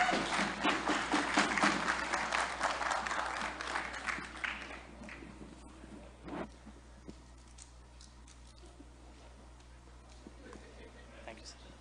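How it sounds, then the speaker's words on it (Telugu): An audience at a political convention in Dallas applauds as a speaker is welcomed, a crowd clapping that starts fairly loud, fades after about four seconds, then trails into scattered claps and faint room sounds. "Please welcome him with a big round of applause."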